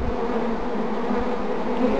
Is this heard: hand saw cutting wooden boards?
no